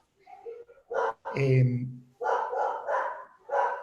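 A female dog barks close by, a few loud, sharp barks and yips in quick bursts separated by short pauses.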